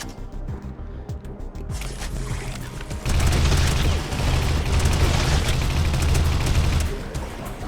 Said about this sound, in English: blow up these last 5 mining rigs, just like that